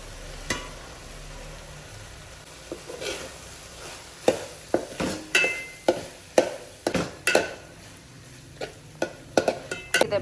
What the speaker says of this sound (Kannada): ಸೊ ನಾನಿಲ್ಲಿ ಬೆಂಡೆಕಾಯಿ ಆ್ಯಡ್ ಮಾಡ್ತಿದ್ದೀನಿ